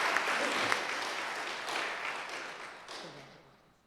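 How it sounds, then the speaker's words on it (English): An audience at a certificate presentation claps to honor a program participant: steady, fairly close applause that swells and then fades out toward the end, with a brief murmur of voices. "give him a round of applause"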